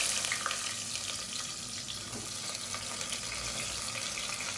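Steady sizzling of sliced onions frying in hot oil, a continuous bright crackle with faint watery hiss, no voices.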